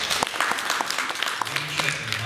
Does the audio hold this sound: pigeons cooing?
no